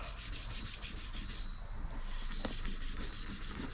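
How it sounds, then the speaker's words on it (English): Sandpaper on a block rubbed back and forth to block down a prepped surface, a faint, steady, close scratchy rasp with no talk. "take your sandpaper on a block and just block all this stuff out"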